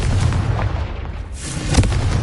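Explosive Confringo spell blasts in the Hogwarts Legacy video game, a dense rumbling boom sustained across the moment with a fresh burst near the end, loud and close with no talking.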